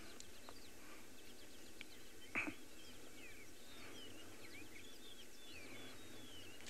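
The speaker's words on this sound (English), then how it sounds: "Can you hear the birds calling?" Faint, scattered bird chirps and calls in the African bush on a safari drive, set against a low, steady vehicle hum, with one brief louder knock and no talk.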